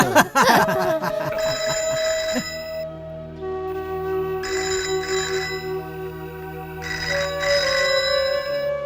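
A telephone rings in three repeated bursts with short pauses between, loud and close, over a steady tonal background, in a Bhojpuri film scene.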